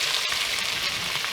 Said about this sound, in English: So we're going to do a light sauteing